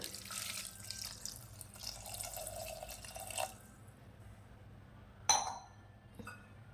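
Water from a big glass pours into a pressure cooker with tomato, green chilli and onion pieces, a soft splashing flow for about three seconds, then quiet with a sharp metallic clink and a faint knock, recorded close and low.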